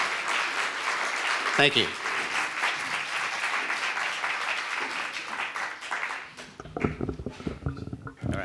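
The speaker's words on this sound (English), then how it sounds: "Can we give them a round of applause to both candidates?" Audience applause for both candidates at a Seattle candidates forum, a broad sustained wash of clapping that later turns sparser and more uneven, with a brief spoken thanks over it.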